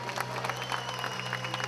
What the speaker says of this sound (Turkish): Tekrar da kocaman bir alkışlıyoruz.